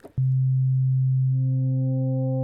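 A pure sine-wave synth bass from Ableton Live's Meld device sustains as one steady low tone, then wavefolding adds a ladder of bright upper harmonics partway through, held alone without talk.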